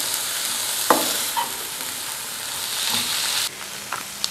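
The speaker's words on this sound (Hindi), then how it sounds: "अब इन तमाम चीज़ों को हमने तेज़ ही फ्लेम पर तकरीबन 2-4 मिनट हमने पकाना है" Mixed vegetables stir-frying over a high flame give a steady, loud sizzle with a few sharp spatula scrapes and stirring clatters. No voices are heard.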